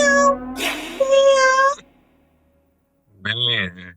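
A cat meows twice, close and clear: a long drawn-out meow, a stretch of silence, then a shorter, wavering one.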